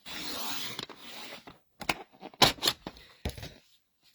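Card strip being cut for a handmade birthday card, a run of short, sharp cutting strokes in irregular bursts separated by brief pauses, close and fairly quiet with no talking.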